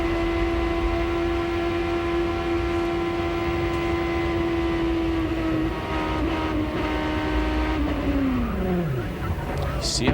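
A 2007 IndyCar race car screams around the Nashville track as heard onboard, its engine holding a steady high whine before the pitch drops sharply as the car comes off the throttle.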